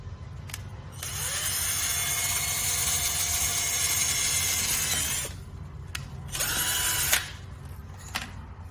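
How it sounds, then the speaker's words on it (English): A power drill whirs steadily for several seconds pre-drilling a hole in a WPC beam, stops, then gives two short bursts, with a few clicks and taps between. "You have to pre-drill a hole in this way."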